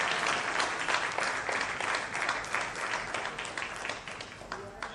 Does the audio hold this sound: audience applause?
yes